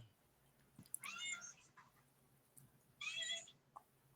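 A cat meows twice in a quiet room, each cry short and fairly clear, with a soft click between them and faint background noise.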